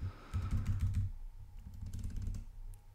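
Keys on a computer keyboard are pressed, including the space bar, in a quick run of soft close taps, followed by a few scattered clicks at low volume.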